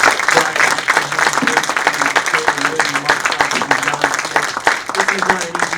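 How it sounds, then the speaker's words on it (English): Audience at a Jackson County, North Carolina county commissioner debate applauds the candidates, a steady, loud wash of many hands clapping with murmured voices mixed in throughout. "How about we get a nice round of applause for these candidates?"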